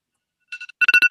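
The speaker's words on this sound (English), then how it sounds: "And there's an alarm right there." An Amazon Alexa device sounds its alarm: a few soft chime tones, then a louder run of five rhythmic beeping pulses, clear and close with no talk.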